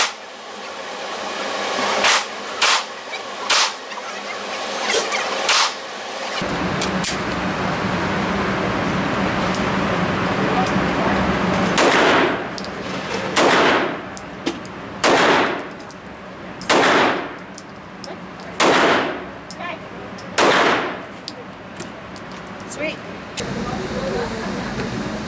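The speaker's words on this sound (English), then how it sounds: "somebody's in here shooting machine guns" Machine guns fire at an indoor shooting range in sharp repeated bursts, loud cracking clusters separated by short gaps over steady background hum.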